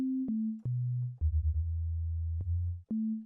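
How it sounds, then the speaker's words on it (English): A pure, steady sine tone from the FAW Circle 2 synthesizer plugin steps down through several pitches, pausing briefly between them, then jumps back up near the end. "You got sine wave."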